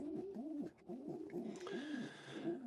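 Pigeons coo in a breeding nest, giving a close, repeated series of soft rolling coos, with a steadier high chirping from the birds joining in partway through.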